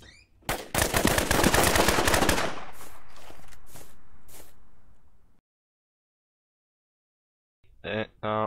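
Players attacking a base in the game Trident Survival open up with a loud burst of rapid automatic gunfire, followed by several separate shots that fade, a stretch of silence, then two short bursts.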